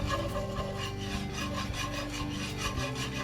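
A gravy whisk scrapes rhythmically around a pan of gravy for a Southern beef liver supper, quick repeated strokes that sound close and steady with no talk.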